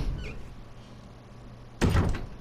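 A door opening in the Resident Evil HD Remake survival-horror game: quiet ambient hum, then a sudden loud creaking, grinding swing near the end that stays heavy until the clip stops.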